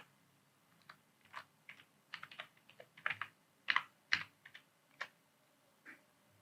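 Typing on a computer keyboard, a quick irregular run of crisp key clicks and taps, close and fairly quiet, with no voices.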